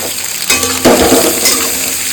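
Three large onions and chopped garlic sautéing in a pan, a steady close sizzle with a sharp burst of frying noise as the ingredients hit the oil partway through, no voices.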